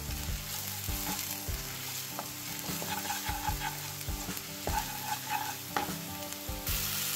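Turmeric, coriander powder and red chilli sizzle and fry in hot oil for Punjabi dhaba-style jeera aloo, a steady crackling hiss with stirring clinks, close and alone.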